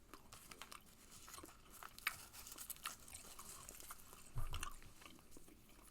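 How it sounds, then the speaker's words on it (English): Gum is chewed close to the mic in a quiet room, with soft, wet, irregular biting and crunching smacks continuing steadily with no talk. "So let me go ahead and pop this gum into my mouth."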